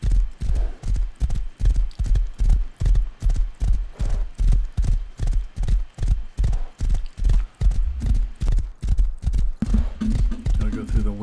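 Horse hooves clip-clop in a steady, fast gait while riding in the survival game Rust, loud and close, with a brief voice near the end.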